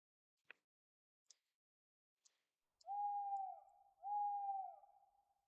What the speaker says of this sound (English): That owl sound effect gave me goosebumps.